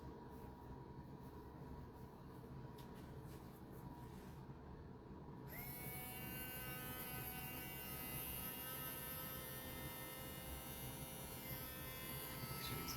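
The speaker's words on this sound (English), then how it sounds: "And when you start to put the Dremel on it, just apply pressure because it could bounce a little." A Dremel rotary tool drills into a painted figure, a faint low hum that shifts at the midpoint into a higher, steady whine as the bit spins up and bites.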